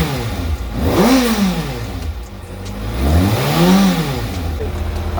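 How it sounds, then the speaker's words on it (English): A Kawasaki ZX-6R sport motorcycle with a high-performance air filter revs up twice to about 6,000 rpm, each rise climbing in pitch and then falling back to a steady idle, loud and close by. "So I'm gonna do a couple of revs so you guys can hear what it sounds like."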